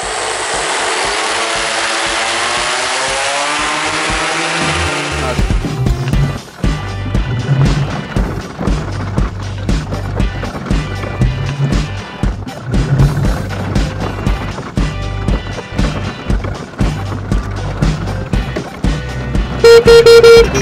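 Propellers spinning inside a duct ring on a homemade GreenFly aircraft during a thrust test: after a few seconds of steady broadband rushing, a loud buzzing drone with pulsing rhythmic beats carries on for the rest of the clip.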